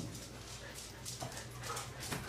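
Puppies in the video game Minecraft whimper and yip in short bursts, faint under someone talking.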